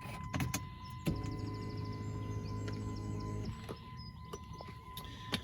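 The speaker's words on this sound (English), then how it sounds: "if I put the key in the ignition, you can see it'll actually move the seat to the set position." The power seat motor in a 2006 Jeep Grand Cherokee 5.7L Limited hums for about two seconds as the seat glides to its set position, a smooth, close electric whir between small clicks and handling noises.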